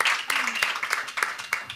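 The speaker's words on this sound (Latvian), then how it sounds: "Drīkst aplausus, lūdzu." Audience applause at an international business forum in Latvia, a dense wash of many hands clapping at close range with a faint voice briefly underneath.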